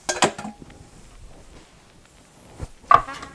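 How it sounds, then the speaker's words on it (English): Potatoes being chopped with a knife in a home kitchen while cooking Japanese white miso curry: a couple of sharp board knocks near the start and a louder clack near the end, with quiet room sound between. "we're going to start chopping these up"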